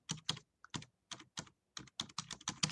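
Quick bursts of keys being struck on a computer keyboard as a name is typed, close and clear, in an irregular rhythm of short clusters separated by brief pauses, with no talking.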